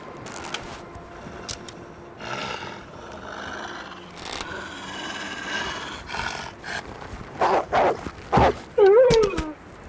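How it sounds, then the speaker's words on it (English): A wolf in the survival game The Long Dark growls and snarls in several rising bursts toward the end, loud and close, over a busy backdrop of game noise and shuffling. "Stop annoying me, Mr. Wolf."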